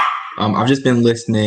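A dog barks sharply a few times right alongside a person speaking, both close and loud.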